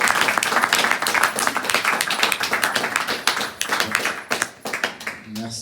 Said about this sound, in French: Vous pouvez applaudir si vous voulez.